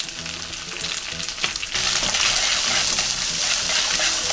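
Leeks stir-frying with pork in sesame oil, garlic in the pan: a loud, dense sizzle that swells louder partway through as the leeks hit the heat, with faint stirring scrapes underneath.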